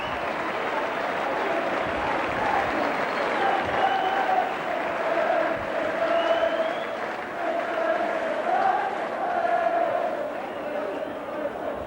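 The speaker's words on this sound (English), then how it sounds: "the applause and cheering dies down" A rugby league crowd at a Whitehaven versus St Helens cup match applauds and cheers after a try, a dense, steady roar of clapping and shouts lasting throughout, with a commentator's voice faintly over it.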